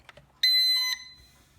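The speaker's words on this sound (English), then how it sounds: "you'll hear a beep, see some flashing, and then it will be calibrated" A single sharp electronic beep from a Da Ming DM107S drone during calibration, loud and steady for about half a second, preceded by a couple of faint clicks in an otherwise quiet room.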